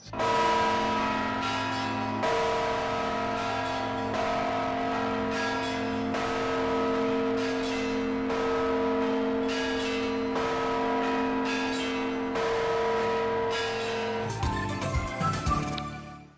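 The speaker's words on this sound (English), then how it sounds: "All I have to do is to put my foot on the pedal here, press it, and that pulls the little ringer inside of this bell" A church bell struck by a foot-pedal ringer in an old city church in Kazakhstan, sounding a rapid series of loud ringing strokes whose overlapping tones sustain and then give way to clattering noise at the end.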